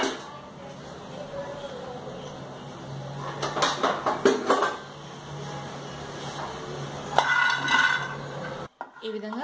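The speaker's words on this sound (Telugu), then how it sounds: "ఆల్సో సాల్ట్ అని హీట్ చేసుకొని పల్లీల్ని దోరగా వేయించేసుకుందాం" Peanuts are dry-roasted in a pan, with scraping and clinking of a spoon against metal and rattling nuts in uneven bursts, fairly close, over a steady background hiss, with people talking during it.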